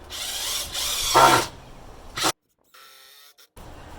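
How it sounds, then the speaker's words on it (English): Power drill driving screws to join two boards while building a swimming kickboard, with bursts of whirring and ratcheting, a louder close burst, then a pause and a faint short run of the tool. "This one's a little bit trickier because you have 2 different boards you need to screw in."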